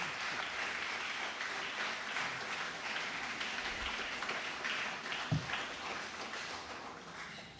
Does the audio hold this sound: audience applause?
yes